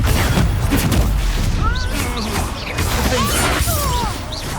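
Confringo fire-blast spells explode amid magical combat in Hogwarts Legacy, with loud crashing bursts and swooshes over a dense, continuous battle din, along with shouted voices.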